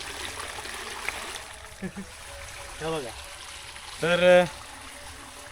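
Water streams and trickles steadily into a garden plot for irrigation in a Konkan village, a low continuous flow under a man's brief speech.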